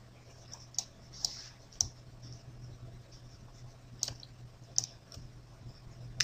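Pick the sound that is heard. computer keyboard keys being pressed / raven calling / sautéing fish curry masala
computer keyboard keys being pressed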